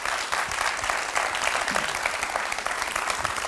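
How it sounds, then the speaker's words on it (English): A symposium audience bursts into loud, sustained applause, a dense wash of clapping filling the room with no voices above it. "can I have a huge applause for Alberto Villanueva"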